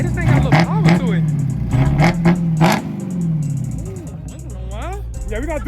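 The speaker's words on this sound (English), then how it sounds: "this is the first startup of the HELLCAT" A Hellcat V8 engine swapped into a Chrysler 300 rumbles and revs in short bursts up close on its first startup, with clattering and voices talking over it throughout.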